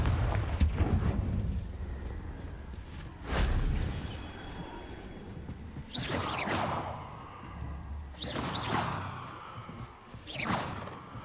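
A Confringo fire spell in the Hogwarts Legacy video game, several sharp whooshing blasts with booming explosive thumps, repeating at intervals of a few seconds against a quiet low rumble.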